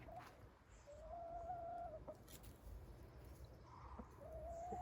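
Chickens in a backyard coop make faint, drawn-out calls over a low steady background hum, a few soft clucks scattered between them, heard from a short distance.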